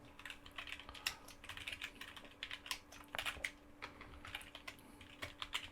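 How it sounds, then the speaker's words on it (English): Typing on a computer keyboard, a steady run of quick, close key clicks with short pauses between bursts, heard alone without talk. "And just typed in cocktails"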